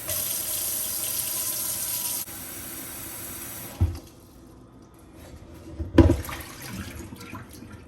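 Tap water pours steadily into a pot for boiling pasta for chicken Alfredo, a loud continuous rush that stops partway, followed by a quieter stretch with two brief knocks or clanks.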